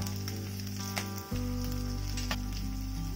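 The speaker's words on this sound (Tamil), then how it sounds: "எல்லாம் நல்லா பொரிஞ்சிருச்சு" Broken cashews and grated ginger fry in hot oil for rava idli, giving a continuous close, steady sizzle with a brief dip partway through, no voices.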